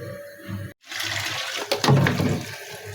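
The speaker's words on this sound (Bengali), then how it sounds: "এগুলো সব ধুয়ে নেব এগুলো সব এখন মেজে ঘষে নেব পরিষ্কার করে" Running water pours steadily into a sink while pots and pans are washed and scrubbed in a home kitchen. The flow breaks off briefly, then rushes loudly with clattering and splashing, and no one speaks.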